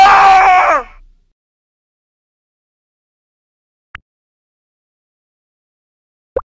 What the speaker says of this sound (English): I didn't know he was gonna scream like that